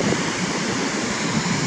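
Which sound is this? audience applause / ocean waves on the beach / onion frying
ocean waves on the beach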